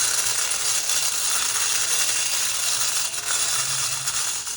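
An Odistar mini desktop vacuum cleaner runs with a steady, close, high-pitched whirring hiss that stays constant throughout, with no talking.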